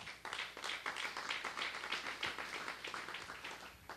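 Congregation clapping during a Spanish-language church sermon, a steady stream of fairly close hand claps with dense overlapping rhythm throughout, no talk over it.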